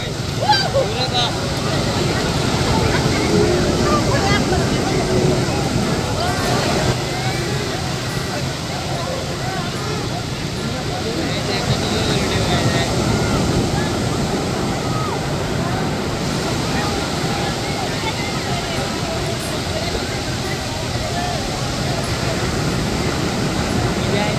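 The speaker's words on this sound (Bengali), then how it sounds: "সমুদ্রের বিশালতা আর ঢেউয়ের গর্জন শুনতে শুনতে কখন যে সন্ধ্যা হয়ে গেল" Sea waves at Sugandha Beach in Cox's Bazar roar steadily and close, a dense broadband wash of surf with wind buffeting the microphone and indistinct beach voices mixed into the constant noise.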